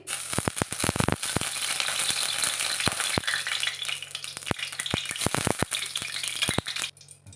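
Green chillies frying in hot oil for a Bombay duck jhal fry, a steady loud sizzle with sharp popping crackles scattered throughout, running alone for about seven seconds before dropping off near the end.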